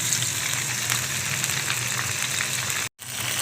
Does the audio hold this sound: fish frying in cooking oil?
yes